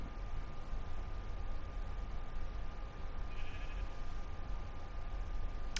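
Sheep in the video game Minecraft bleat against a constant hiss-like background, the calls close and fairly steady over several seconds, with no talking.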